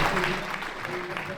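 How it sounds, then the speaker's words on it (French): Applause from a crowd at a rally event in Nice for a rally team, a steady broadband wash of clapping filling the short moment, with a voice faintly mixed in. "Vous pouvez les applaudir, effectivement."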